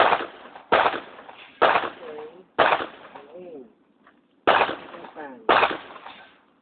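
Handgun shots fired at a shooting range ring out as six sharp, loud reports in an uneven rhythm, each followed by a short decaying tail, with brief voices murmuring between some of the shots.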